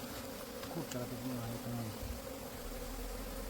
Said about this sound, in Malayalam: ഈച്ചകളൊക്കെ കണ്ണാസിലേക്കാണ് പോകുന്നത്